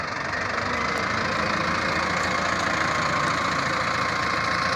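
An Arjun 605 tractor engine runs steadily with a constant mid-pitched chug, loud and near, with no voices.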